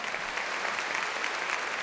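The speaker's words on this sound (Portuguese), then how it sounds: "Uma salva de palmas a ela." Steady applause from a church congregation at a Catholic Mass, dense and continuous throughout, with no voices standing out above it.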